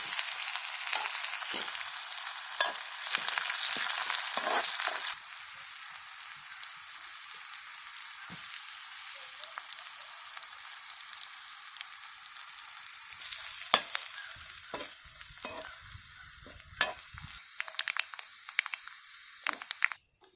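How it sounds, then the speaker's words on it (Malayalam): Shallots fry with mustard seeds and curry leaves in oil, sizzling and hissing steadily in a pan while small pops and crackles break through, fading slightly partway. "കടുക് പൊട്ടിക്കറിഞ്ഞ് ചെറിയ ഉള്ളി അരിഞ്ഞത് അതിനകത്ത് വെച്ചിടുക."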